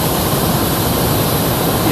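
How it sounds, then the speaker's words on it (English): Air rushing out as a semi truck's fifth wheel is released during uncoupling, a loud, steady broadband hiss that continues unbroken for about two seconds. "The air is getting out now."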